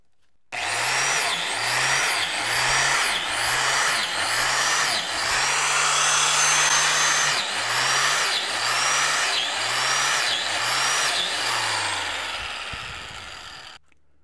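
A power drill bores holes into a wooden log for mushroom spawn, with about ten rhythmic bursts of whining motor and chewing wood in close succession, loud and near, with no talking.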